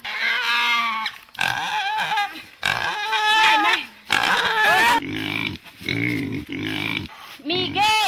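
A pig struggling while being caught at an indigenous settlement in the Amazon squeals loudly and close by, in repeated shrill bursts broken by short pauses and lower grunts.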